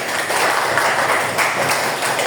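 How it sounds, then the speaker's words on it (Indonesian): A classroom full of students applauds together, a dense, steady wash of many hands clapping at once for a couple of seconds without speech. "tepuk tangan"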